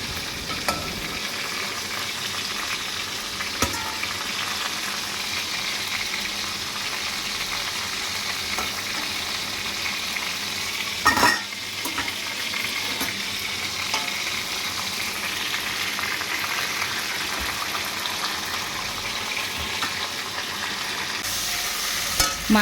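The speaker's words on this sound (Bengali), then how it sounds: "মাছ ভাজার তেলের মধ্যে আমি আলুগুলো ভেজে নিলাম।" Potatoes fry in leftover fish-frying oil, a continuous even sizzle and crackle with occasional louder pops and stirring clatter, close and steady throughout with no talking.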